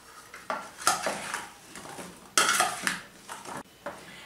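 Green zucchini seasoned with salt and black pepper is mixed by hand with a utensil, giving a few bright clinks and scrapes against a dish in short bursts, close and fairly quiet.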